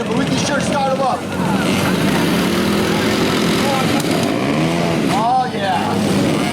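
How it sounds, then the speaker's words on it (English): Minibike engines at a minibike reunion, running and idling loud and close with revving surges, while people talk over the buzz. "Give the folks a little bit of an idea what these cool bikes sound like"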